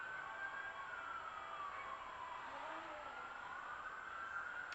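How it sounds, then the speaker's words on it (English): A siren passes outside, a steady wailing tone that slowly sweeps down and back up, faint and distant against a low background hiss, with no talking over it. "there's like a siren going by outside"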